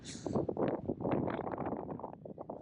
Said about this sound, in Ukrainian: Бо тут прям так вітер дує, взагалі незручно.